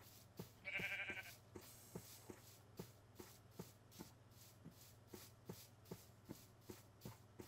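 In Minecraft's Create Above and Beyond modpack, a short, quiet sheep bleat sounds near the start, then soft footsteps shuffle in an even, steady rhythm throughout.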